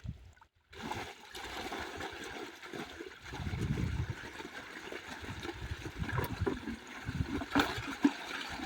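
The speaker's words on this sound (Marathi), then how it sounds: "तर पाणी चालू झालं" Water rushes and splashes steadily from an irrigation pump pipe, a continuous gurgling flow that grows louder partway through.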